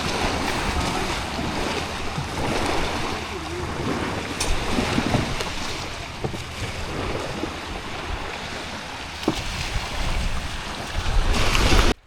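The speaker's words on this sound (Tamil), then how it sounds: "அதனால தாங்க அப்படி ஒரு வத்தையை தான் இங்கே கரை ஏற்றிக்கிட்டு இருக்காங்க" At the shore, a small fishing boat is hauled up the beach while waves wash in, heavy wind buffets the mic, and a few dull knocks sound near the end.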